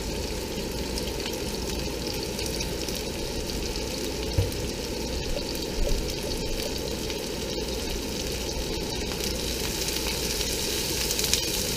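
Carrots and onions sizzling and crackling in a hot non-stick frying pan, a constant close hiss with a few faint clinks of stirring, no speech.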